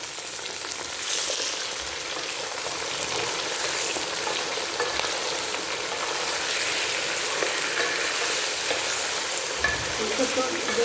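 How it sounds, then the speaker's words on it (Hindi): Two kilos of meat fry in a pot for chicken biryani, a steady close hiss and crackle of hot oil with occasional soft stirring knocks, no voices. "इसको तो 2-3 मिनट इसको भूनते हैं"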